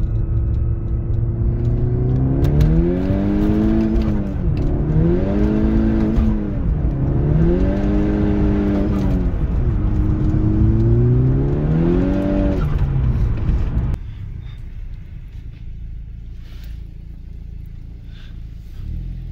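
A VW MK6 Golf R accelerates hard from second gear, its engine climbing steeply through the revs in a loud, sustained pull with brief dips at the gear changes, then the drone drops off sharply near the end.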